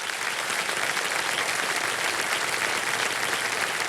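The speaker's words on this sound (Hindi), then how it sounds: "एक बार जोरदार तालियां" Studio audience on a KBC quiz show breaking into loud, dense applause, a steady wash of clapping sustained throughout with no pauses.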